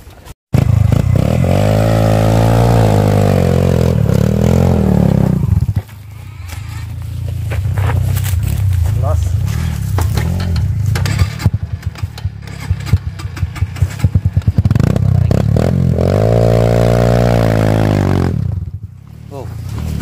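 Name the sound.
enduro motorcycle on steep trail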